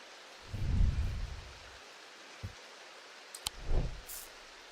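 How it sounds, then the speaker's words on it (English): Rain ambience outside in the video game Strange Antiquities: a soft hiss of rainfall with low rumbling swells, like distant thunder, plus a few faint clicks and taps, no speech. "I love the rain sound effects outside."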